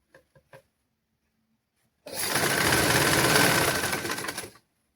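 A sewing machine stitches fabric in a tailoring lesson, running in one steady loud burst of about two and a half seconds after a few faint clicks and a pause, with no talk over it.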